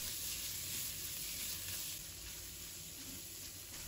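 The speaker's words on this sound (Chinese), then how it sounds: "把肉丝炒散" Shredded lean pork sizzling and frying in a hot pan with mushrooms and shrimp as it is stir-fried, a steady close hiss with faint stirring, no talking.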